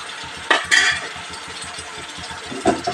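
A utensil stirs mutton keema in a pan, with a few sharp scraping clatters against the metal over a low steady background hum.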